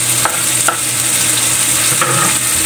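Green and red chilies stirred into galunggong escabeche frying in a pan, a steady close sizzle with a few scraping stirs and clinks, no talking.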